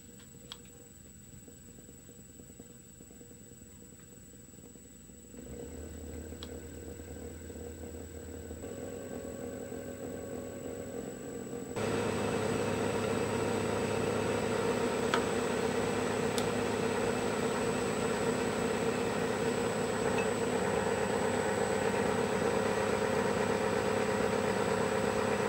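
A small homemade generator built around a permanent-magnet DC motor salvaged from a treadmill starts up and runs with a steady, droning mechanical hum that grows louder partway through and holds constant, with no talking.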